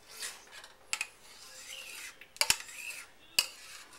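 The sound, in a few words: sliced potatoes poured into a casserole dish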